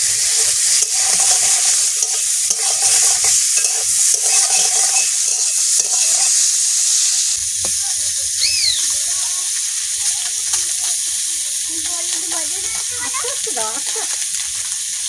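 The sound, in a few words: koi fish frying in a pan with cauliflower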